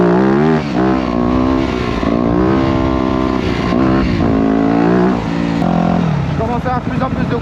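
A motorcycle ridden on a Sunday bike-life outing, its engine droning loud and close with rising and falling revs throughout, wind noise mixed in.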